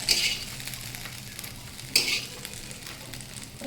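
Okra (lady's finger) fries in a pan with a soft, continuous sizzle and two sharper bursts of stirring or scraping, close and fairly quiet, with no talking.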